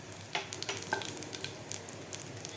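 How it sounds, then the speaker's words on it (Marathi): Asafoetida sizzling in hot oil with cumin and fennel seeds for masala chilli, a steady close crackle broken by small scattered pops and faint scraping stirs. "त्यानंतर घालायचं आपल्याला पाव चमचा हिंग."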